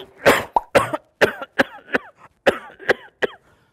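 A person gives a rapid run of about nine short, sharp coughs with forceful exhaling, close and loud, in an uneven rhythm with brief pauses between bursts.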